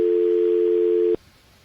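A steady telephone line tone sounds on a call being connected to shore-based scientists, loud and unbroken for about a second before cutting off abruptly into quiet room noise.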